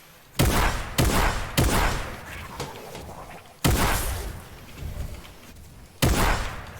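Gunfire in a shooting video game, loud close shots fired in separate bursts with short pauses between them, about six blasts in quick succession.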